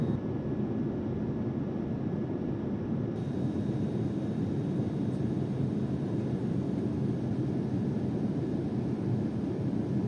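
Cabin of an ANA airliner on final approach, a loud, steady broadband roar of engine and airflow noise that stays constant throughout, with no voices.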